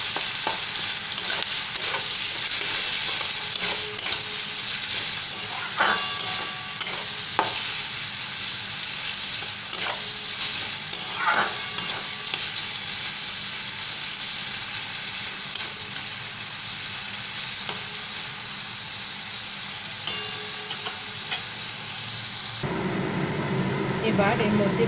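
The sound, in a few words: potatoes frying and being stirred in pan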